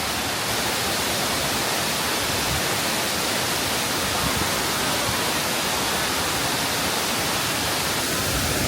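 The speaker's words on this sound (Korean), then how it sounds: "폭포가 지금 내려오는 게 엄청 크고 되게 시원한 소리를 내면서" A loud, steady rush of falling water roars without pause, broad and close, like a big waterfall pouring nearby, in Jiuzhaigou, Sichuan, China.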